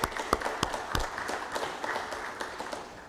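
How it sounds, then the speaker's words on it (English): Scattered applause from a small crowd at a town hall meeting, loose irregular claps that fade and thin out over a few seconds. "If you'd join me in giving them a round of applause."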